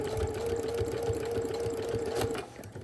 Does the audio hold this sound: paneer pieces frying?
no